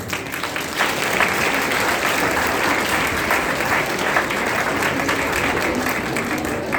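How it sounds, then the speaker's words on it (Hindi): A room of students applauds a classmate on a talk show, producing a thick, even wash of clapping that holds at a steady loudness throughout with no voices over it. "तो एक जोरदार तालियां इसके लिए"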